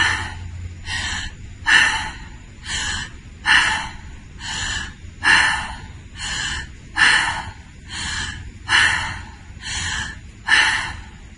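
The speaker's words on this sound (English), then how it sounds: "So the breathing is going to sound something like this." Fast, continuous breath-work breathing at a jogging pace, loud close-up inhale-exhale cycles repeating roughly every second with rhythmic rushing air and no talk.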